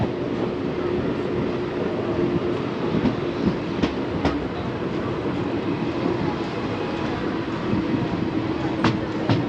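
Passenger train running on the rails between Coimbatore and Thiruvananthapuram, heard from inside: a steady loud rumble with rhythmic clicks and clacks as the wheels pass rail joints.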